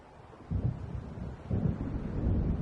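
Low rumbling thunder from an approaching storm in the Alan Wake game, two heavy swells rolling in after a quiet start and then sustaining, deep and moderately loud with no voices.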